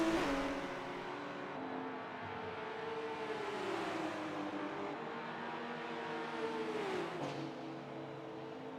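A pace car engine drones and revs on the Sebring circuit in a Forza racing game, a continuous loud hum with shifting pitch as it accelerates and eases off through gear changes.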